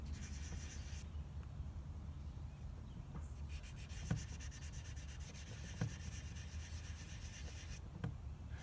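Light hand sanding scrapes through primer down to bare wood on a guitar body, faint rhythmic rubbing strokes with brief pauses and small knocks, close and quiet.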